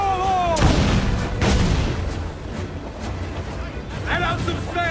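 Ship cannon fire in Assassin's Creed IV: Black Flag during a naval battle: several heavy booms land amid shouting crew orders, with loud continuous battle noise throughout.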